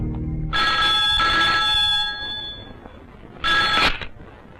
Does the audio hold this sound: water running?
no